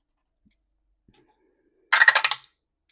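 A pen crosses numbers off a score sheet during a dice game: after near silence and a faint tick, one short burst of rapid scratchy strokes lasts about half a second, close to the mic.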